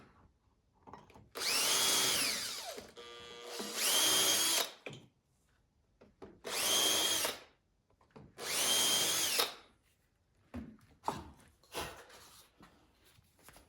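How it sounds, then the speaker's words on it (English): A power drill whirs in four loud bursts, each a couple of seconds long, pre-drilling into wood for a jig, followed by quieter clicks and handling noises. "Pre-drill this."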